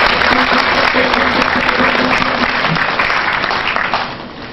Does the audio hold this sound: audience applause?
yes